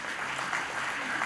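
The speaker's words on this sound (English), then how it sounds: "We could have a round of applause" A conference audience at the TiECon Kerala 2016 inaugural function applauds for sponsors, a short, even wash of many hands clapping at a distance.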